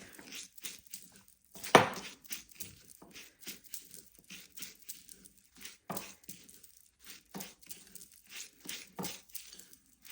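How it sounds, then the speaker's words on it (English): Granulated sugar being stirred with a splash of cold tap water until it turns like wet sand, for Christmas gonk sugar cubes: soft gritty scraping and crunching strokes in an irregular rhythm, with one sharper knock early on, close and quiet, no talking. "I'm just going to mix this round until my sugar develops a wet sand consistency"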